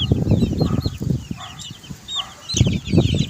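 Young chicks being moved into a small backyard range cheep in high, rapid chirps, with clucking from nearby chickens and soft rustling and handling thumps close by.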